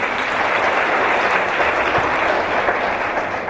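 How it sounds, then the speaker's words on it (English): An awards event audience breaks into loud, dense, continuous clapping that holds steady throughout, close and full, with no talk over it. "Can you give her a clap?"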